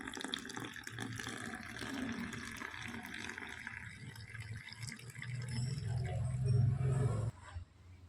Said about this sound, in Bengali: ফুটন্ত গরম দুধটা এবার দিয়ে দেব। দুধটা এবার একটু ওপর থেকে দেব আমি।